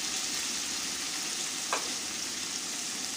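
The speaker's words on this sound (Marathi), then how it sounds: "तेल छान गरम झाल्यानंतर यामध्ये आता आपण पनीरचे तुकडे जे आहेत छान असे तळून घेऊया" Paneer pieces frying in hot oil in a pan, a steady dense sizzle throughout with one brief clink near the middle and no talking.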